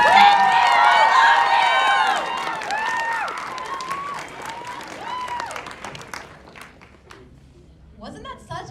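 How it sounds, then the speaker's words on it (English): An audience at UCLA's Indonesian Culture Night stage show gives loud applause mixed with whoops and cheering voices, strong at first, then tapering toward quieter scattered clapping. "Everyone give a warm round of applause for Cindy Adiwidjaja and Dylan Djoenadi"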